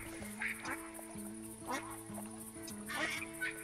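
Ducks in a flock quack repeatedly in TheHunter Classic hunting game, short scattered calls at moderate distance over a steady tonal ambient backdrop.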